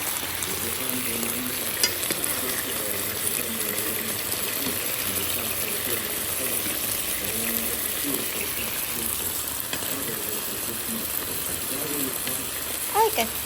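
Salmon fillet frying skin-side in a pan for a home dinner, a steady close sizzle with soft spits and crackles running throughout, a faint pop near the end.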